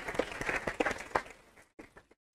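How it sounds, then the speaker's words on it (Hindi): Scattered audience clapping at a lecture hall talk on civil services, honouring a student. Irregular claps come through at first, thin out after a short gap and die away into near silence. "इनके लिए ताली बजाइए।"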